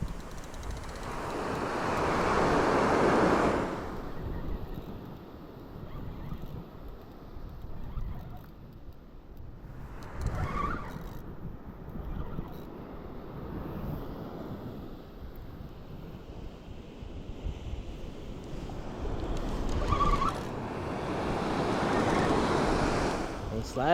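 Ocean surf washes up on a winter beach in Australia, with broad swells of rushing water building and receding in several waves. Wind buffets the microphone throughout.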